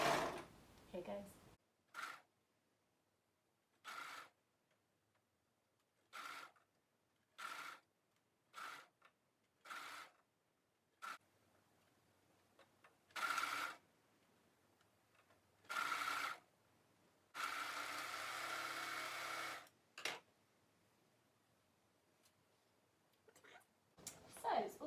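A sewing machine slowly stitching sequin fabric pinned for an Ogden Cami, running in short separate bursts of whirring, with one longer run near the end and quiet gaps between.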